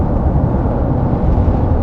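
Sonified primordial sound waves from the early universe, pitched up into the audible range: a dense, steady, loud roaring hiss that holds at an even level throughout, with no voices.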